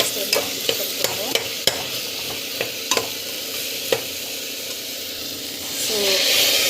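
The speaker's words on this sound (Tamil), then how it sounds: "ஸோ பார்த்திங்கன்னா ஜஸ்ட் வந்து வறுத்து விட்டுக்கோங்க" Jackfruit coated with turmeric and coriander powder is stir-fried in a pan. A soft hissing sizzle runs under sharp, irregular spatula clicks and scrapes, and the hiss swells toward the end.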